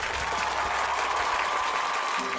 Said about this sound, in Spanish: creo que también es necesario despedirlo con fuertes aplausos